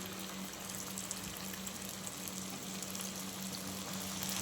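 Moong dal gulab jamun frying in hot oil over a medium flame, giving a steady, soft, continuous sizzle with faint bubbling that stays even throughout, with no voices.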